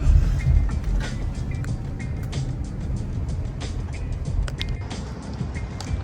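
A car passes along a street during a protest in Lansing, Michigan, a rushing tire and engine wash that is loudest at the start and fades, with faint clicks and distant background noise, no talking.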